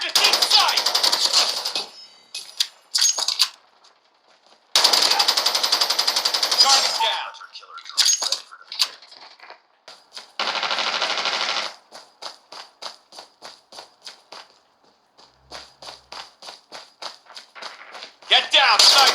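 Machine-gun fire crackles from the Call of Duty Mobile game, playing on an Honor 600 phone in rapid bursts of automatic shots separated by short gaps, loud and close, with other game effects between the bursts.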